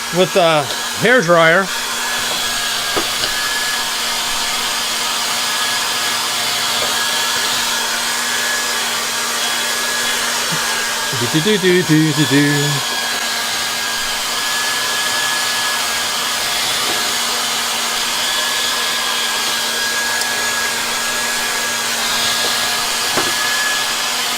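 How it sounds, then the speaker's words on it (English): A hairdryer runs continuously with a steady whooshing whine, close and loud, with a couple of brief clunks and shifts in pitch. "heat it up with the hairdryer"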